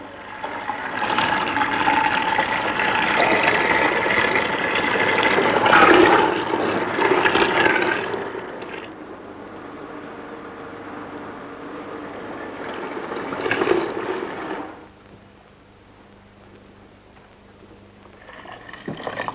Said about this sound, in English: And now the milk's going in for pasteurization